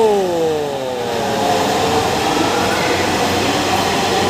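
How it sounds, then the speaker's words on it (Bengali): A metro train heading toward Motijheel rumbles into a station loudly nearby, with a descending whine of braking motors over the steady roar of the cars. "মেট্রো রেল চলে আসছে দ্রুতগতিতে মতিঝিলের দিকে"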